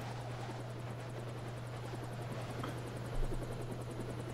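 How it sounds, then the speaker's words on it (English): A helicopter in the video game Deus Ex: Revision hovers with a steady rotor drone and low hum, continuous and moderately close, with a brief louder bump partway through and no talking. "Jock, this helicopter pad is taken."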